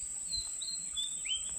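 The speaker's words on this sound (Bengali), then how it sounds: "একটা পাখি ডাকছে" A bird calls in short, thin whistled chirps, faint and somewhat distant, over a steady high insect drone during an outdoor fishing trip with nets.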